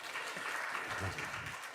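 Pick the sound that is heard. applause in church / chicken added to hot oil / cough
applause in church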